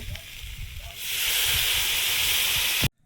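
Water poured into a pan of cumin-spiced curry bursts into a loud steady hiss and sizzle after a quieter stretch of low clatter, then cuts off abruptly.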